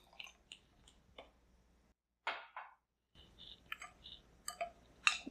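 A spoon stirs demerara sugar into a little water, giving scattered short clicks, scrapes and wet squishes in small bursts separated by pauses, close and quiet.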